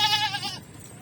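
A young goat on a rooftop goat farm gives a single quavering bleat, loud and close, fading out within a second.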